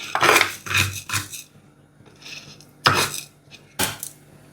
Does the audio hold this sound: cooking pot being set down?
yes